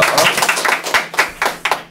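Audience clapping at a Korean talk show on the digital divide, a handful of sharp, separate claps close by, uneven in rhythm rather than a full wash of applause.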